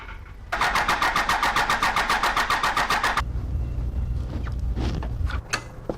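Cummins diesel in a Jeep Wagoneer bumped over on the starter to bleed the fuel system, giving a loud, rapid rhythmic cranking that lasts under three seconds and then stops, leaving lower shop noise.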